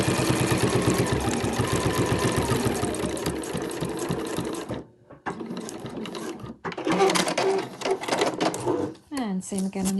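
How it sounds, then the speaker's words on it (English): A sewing machine stitches Velcro onto an overlocker cover, a rapid close mechanical chatter running steadily, then stopping and restarting in short bursts with speech between. "And I'll just sew that Velcro in place."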